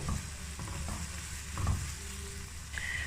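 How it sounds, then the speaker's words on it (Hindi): A soft, steady sizzle of onions frying in a pan until lightly browned, with occasional stirring scrapes, continuous and fairly quiet. "हम प्याज डाल देंगे और प्याज को करेंगे हल्का सा ब्राउन"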